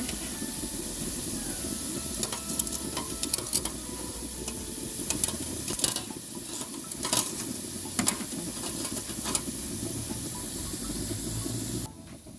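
Spiral sausages sizzle steadily in hot oil, a continuous crackling hiss with scattered sharp pops that holds at an even level throughout.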